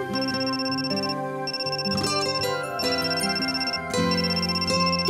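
A phone rings in the video game Amnesia: Memories, a loud, steady, looping electronic ringtone melody that plays the whole time with no voices over it.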